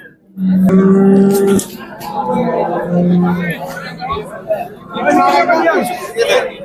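Cows moo loudly and close, several long low calls, amid the busy chatter of a crowd at the Baramati cattle market in India.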